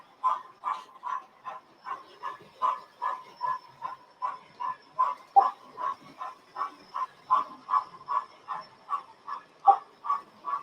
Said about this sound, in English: It does sound a bit like a panting dog